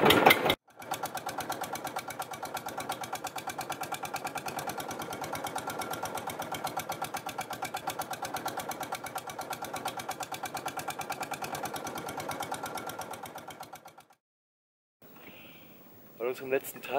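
A motor boat's steady, rapid chugging engine drones continuously for most of the clip in Myanmar, then cuts out briefly before noise and voices return.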